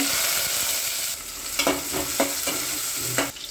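Fenugreek seeds and onion frying in hot oil, a steady sizzle broken by several sharp stirring scrapes of a spoon against the pan, close and fairly quiet.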